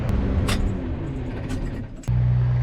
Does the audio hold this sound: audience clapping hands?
no